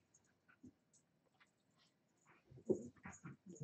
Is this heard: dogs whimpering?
yes